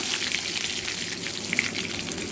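Cumin seeds and curry leaves sizzle and crackle steadily in a generous amount of hot oil for a brinjal curry, a continuous close frying hiss with small pops and no voices.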